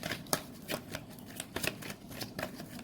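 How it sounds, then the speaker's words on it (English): Tarot cards being shuffled by letting them drop from the deck, giving a steady run of soft riffling patters with sharper slaps now and then, close up and continuous. "I've kind of changed my shuffling style, so I let the card fall instead of picking the card out from the deck"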